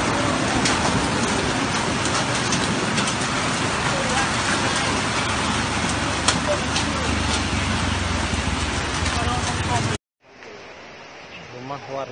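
A hail and rain storm with strong whirlwind winds in Tangse, Pidie, Aceh roars as a loud, dense, steady wash of noise for about ten seconds, then cuts to a quieter, thinner rain-like hiss.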